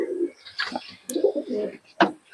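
Old pigeons kept at home coo in throaty, rolling bursts, close and clear, with short gaps and a higher chirp-like call among them.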